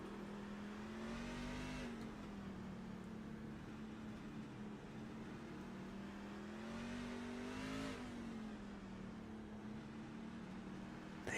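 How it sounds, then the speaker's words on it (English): A race car engine in a Scrambler Series race drones steadily at high revs, rising and falling in pitch a couple of times, loud and close throughout. "You can hear him right there, a little bit of a rev through it, but no real wheel spin."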